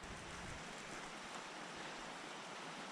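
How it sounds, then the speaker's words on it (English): A swollen creek runs near a campsite on the Red Cone Trail in Colorado, a dense, steady rushing wash of water that fills the scene evenly without pauses, with no voices. "The creek is up."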